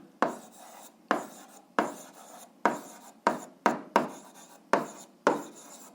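Pen writing on paper during an eighth-grade algebra exercise, nine or ten distinct rasping strokes in a steady rhythm, close and clear with no talking.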